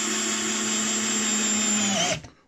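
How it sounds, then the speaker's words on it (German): A pink Parkside PBSA 12 D4 cordless drill driver sinks a 4x40 screw with a loud, steady motor whine close up. It runs for about two seconds, then cuts off abruptly. "Ich nehme jetzt hier mal die 4x40 Schraube, die Standardschraube des deutschen Heimwerkers und werde die hier mal versenken."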